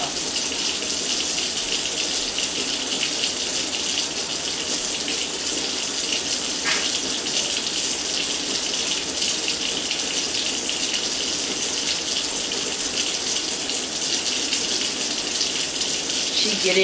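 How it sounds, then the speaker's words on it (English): Steady, loud gush of running tap water while a girl's hair is washed at a sink, continuous and unbroken throughout with no clear talk over it. "She getting her hair washed."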